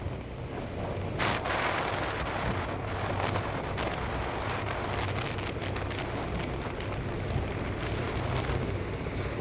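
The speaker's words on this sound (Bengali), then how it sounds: "আর জানো তো এত জোরে হাওয়া হচ্ছিল" Strong wind roars steadily over the microphone during a fast car ride on an open road, a dense, buffeting rush with occasional sharper gusts and no talking.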